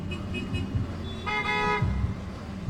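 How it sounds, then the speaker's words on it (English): Car horns toot at a protest car demonstration at the Minnesota Legislature, a short honk followed by a longer blast, over street noise and idling traffic. "Here goes some honking."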